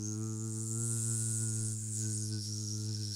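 A voice imitates a bee buzzing with a long, steady, voiced "zzz" sound, loud and close, held without a break for about three seconds.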